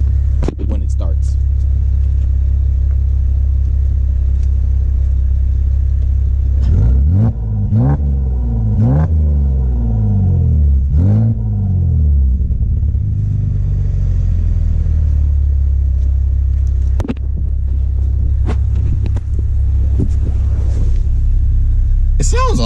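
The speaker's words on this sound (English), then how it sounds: "It sounds a lot different when I rev it." A modified fifth-generation Chevrolet Camaro engine idles with a deep, loud, close rumble, then blips its revs in a quick series of rising and falling surges, with a few sharp clicks later and a final short rev.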